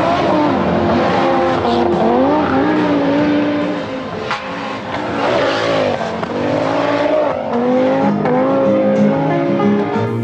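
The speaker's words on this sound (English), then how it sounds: "The second thing is the sound of a five-cylinder engine." An Audi rally car with a five-cylinder engine races by, its loud warbling engine note rising and falling through gear changes with tyre squeal, close and continuous.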